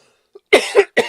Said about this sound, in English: I start coughing like crazy